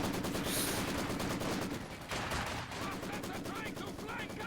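MG42 machine gun firing in a World War II real-time strategy game, rapid continuous bursts rattling dense and steady with a short pause, amid other battle noise.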